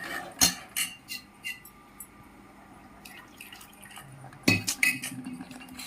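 A spoon scrapes and clinks against a pot while gram flour is stirred into boiling curry, with a few sharp metallic taps early on and a cluster of louder clinks near the end over a quiet simmering background.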